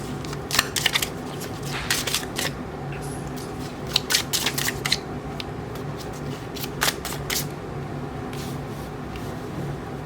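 A deck of tarot cards is shuffled close up in a quiet room, giving quick bursts of soft riffling and flicking that come in irregular clusters over a faint steady background.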